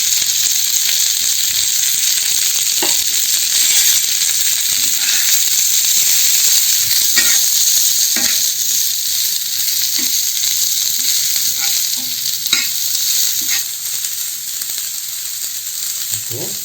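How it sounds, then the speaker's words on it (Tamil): Chopped onions, green chili and ginger fry in a pan of hot oil for a vegetable dosa, giving a steady, close hiss of sizzling with faint scattered clicks and stirs throughout, no voices. "வெங்காயம் பாதி வதங்கிருக்கு"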